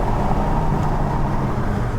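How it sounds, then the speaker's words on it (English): A 2022 Hyundai Kona N performance SUV engine accelerating in N mode, a steady low-pitched engine drone heard from inside the cabin, loud and continuous without talk. "Okay, really good response from the engine."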